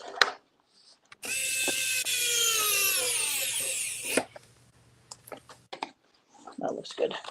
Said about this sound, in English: I'm just going to close it before I put these screws in